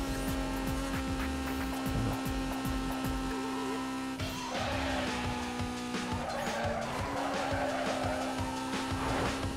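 A Fiat Punto races through corners in Need for Speed, its engine holding a steady tone with tire squeal and skidding, and a shift in the engine note midway, all loud and close with no talk.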